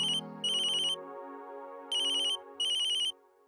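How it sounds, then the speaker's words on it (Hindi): A phone rings close by, with a bright electronic ringtone sounding in repeated short bursts over a quiet background. "मैनेजर का फोन है।"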